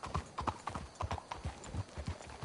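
Horse hooves clip-clop in Red Dead Redemption 2, a brisk, uneven run of close, distinct hoof strikes from several horses moving together, with no talking.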